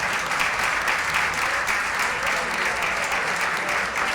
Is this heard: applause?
yes